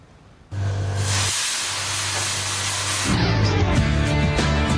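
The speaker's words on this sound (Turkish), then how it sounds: "Hırsızları etkisiz hale getiren buharlı alarm sistemi" A burglar-deterrent steam alarm system sprays a loud, steady hiss of steam abruptly, continuing for several seconds over a low mechanical hum.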